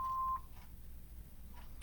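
A single steady answering machine beep sounds at the start, clear and moderately loud, then gives way to faint line hiss and a couple of soft clicks.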